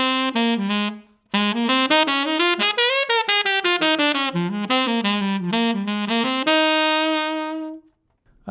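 A jazz saxophone line is played with a particular articulation style, clear tongued notes rising and falling in a flowing phrase after a short opening figure, close and alone, ending on a held note.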